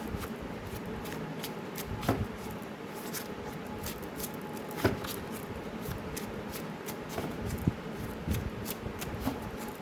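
Tarot cards are shuffled and drawn in a quiet room, soft papery riffles and flicks recurring at an uneven pace with sharper snaps now and then, close and faint.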